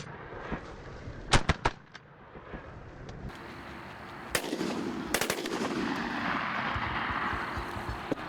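Shotguns fire at geese during a family hunt, with a few sharp reports close together early on and more blasts later. Each is followed by a rumbling echo outdoors, with faint rustling between shots.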